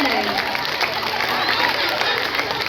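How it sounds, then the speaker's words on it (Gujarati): An audience at a stage play claps and cheers to welcome an elderly grandfather onto the stage, a steady dense wash of applause and crowd noise lasting throughout at constant loudness. "જોરદાર તાળીઓથી વધાવો આપણા દાદાને."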